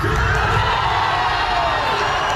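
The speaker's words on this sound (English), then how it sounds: "3 first-half USA goals gave this crowd plenty to cheer about." A large crowd of soccer fans roars and cheers steadily at an outdoor plaza watch party at Toyota Music Factory in Irving, celebrating USA goals in a World Cup match against Paraguay, with shouts and whoops blending into a dense, continuous wall of noise.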